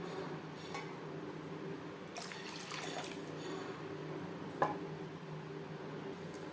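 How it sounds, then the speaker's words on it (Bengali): Tangra fish gravy made without garlic or onion simmers steadily in a pan with a soft, low bubbling hiss and one brief clink of a utensil. "3-4 মিনিট গ্রেভি বেশ ভালো করে ফুটিয়ে নেব।"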